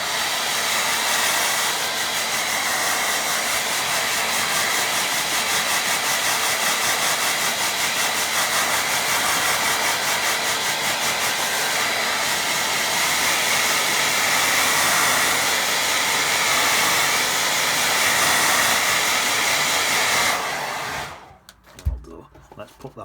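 A hair dryer blows on a watercolour painting of a fisherman, a loud steady close roar and hiss that runs unbroken for about twenty seconds before cutting off, followed by a few quiet bumps.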